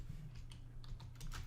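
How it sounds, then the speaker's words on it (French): Keystrokes on a computer keyboard while editing in Photoshop, a quick run of light clicks ending in an Enter key press, close and fairly quiet over a low steady hum. "et touche entrée du clavier"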